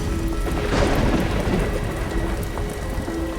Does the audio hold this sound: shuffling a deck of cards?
no